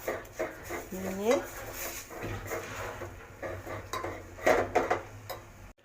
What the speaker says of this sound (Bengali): জোয়ারের আটাটা জলের মধ্যে দিয়ে দিলাম। দিয়ে ওটাকে একটু নাড়িয়ে চাড়িয়ে